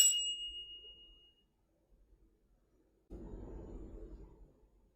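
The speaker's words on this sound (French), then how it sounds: "on finit en fermant la cérémonie avec un petit coup de cloche" A single small ritual bell is struck once to close a ceremony, giving a bright ring that fades quickly, followed by quiet and then a low rumbling noise.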